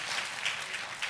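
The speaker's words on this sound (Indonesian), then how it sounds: "kita kasih tepuk tangan yang meriah buat Tuhan kita." Church congregation applauding during a sermon, a brief, dense, even patter of many hands clapping at moderate loudness with no speech.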